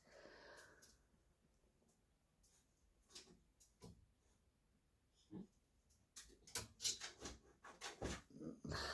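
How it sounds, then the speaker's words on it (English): A dog in the background of an indoor room makes scattered short thumps and snorts, faint at first and growing louder and busier toward the end, with no talking. "That's my dog."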